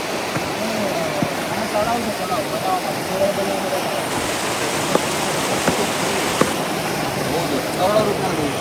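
Water rushes and flows continuously at the head of the Jamjhir waterfall, a broad steady roar heard up close with a faint voice now and then.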